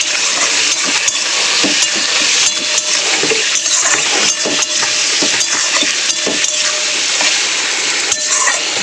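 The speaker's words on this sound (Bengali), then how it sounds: "টমেটোটা পেঁয়াজটা ভালো করে ভেজে নিই" Onion and tomato fry in a hot pan with a steady, loud sizzle, broken by frequent scraping and clicking as a spoon stirs the mixture.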